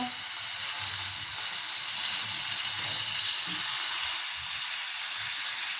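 Tomatoes sautéing in a pan with onions already fried to a pink golden colour, for a green pea bhaji, giving a steady, close, dense sizzle throughout with no talking.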